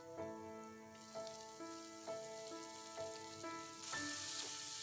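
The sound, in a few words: chopped onion frying on high flame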